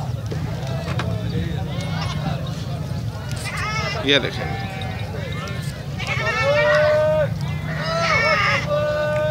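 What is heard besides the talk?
goats bleating at livestock market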